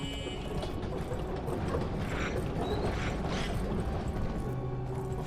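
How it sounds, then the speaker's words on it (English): A shutter in the video game Abiotic Factor grinds open with a steady, loud mechanical rattle of gears and ratcheting that runs continuously throughout. "I'm gonna open the shutter at least."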